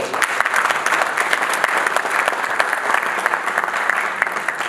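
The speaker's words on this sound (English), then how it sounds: "So please give a round of applause for you all for it." An audience claps continuously at a meet-and-greet event with Punjab Governor Chaudhry Sarwar, a dense, loud patter of many hands without any voices.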